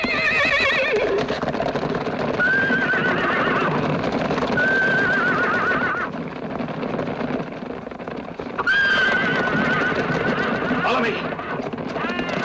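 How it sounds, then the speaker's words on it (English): Several horses whinny loudly over a busy, noisy scene with hoofbeats clopping, the neighs rising and falling in repeated bursts amid background voices. "Hey, you see those horses?"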